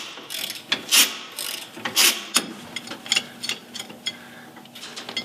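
A hand ratchet with a deep socket loosens the U-bolt nuts on a leaf spring axle, giving quick bursts of clicking pawl strokes separated by short pauses, close and fairly loud, with no voices.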